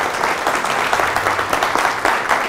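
An audience applauds, dense continuous clapping from many hands, loud and steady across the whole short stretch, with no speech over it.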